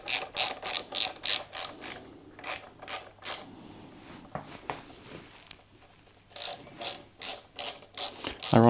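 Ratchet wrench undoing a small 10mm bolt on an indicator clamp of a Royal Enfield motorcycle, rapid rhythmic clicking in close bursts, a quieter pause with light handling, then another run of clicks.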